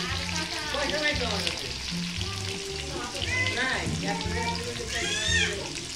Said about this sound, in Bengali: আলুগুলো ভেজে তুলছে।